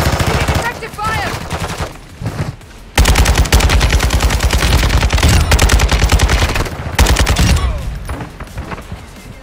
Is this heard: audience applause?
no